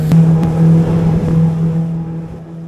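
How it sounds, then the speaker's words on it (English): A tour boat running at speed on the open sea between Puerto López and Isla de la Plata, Ecuador, its motor holding a loud, steady drone with some wind and water rush. "These boats travel at a pretty good speed"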